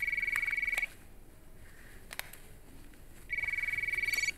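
A mobile phone, a burner handset in a Breaking Bad scene, rings with an electronic tone in two bursts, one at the start and one near the end, fairly faint, with a quiet gap in between.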